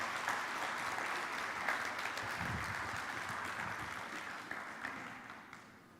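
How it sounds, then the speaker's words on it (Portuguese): A church congregation applauds during a youth-service sermon, a broad, steady wash of many hands clapping that holds fairly evenly for about six seconds and slowly eases, heard at a moderate distance in a large room. "Dá um aplauso para o Pai"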